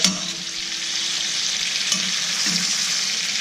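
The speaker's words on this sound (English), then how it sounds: "Now this is going to sear. Super high heat here." A prime beef ribeye sears in a very hot stainless steel All-Clad pan with crushed garlic, giving a loud, continuous, close-up sizzle with faint crackles and no voices.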